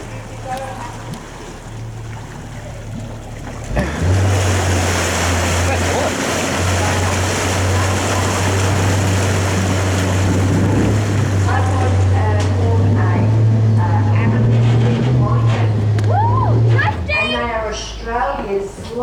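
A tour boat's engine on Lake Barrine starts up and settles into a steady, loud droning hum, running under voices and outdoor chatter before cutting out near the end as birds and talk continue.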